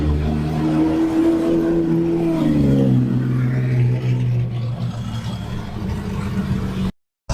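A Porsche 911 Turbo S supercar approaches and passes close by, its loud engine note holding steady then dropping in pitch as it goes past and fades slightly, before a brief cut to silence at the end.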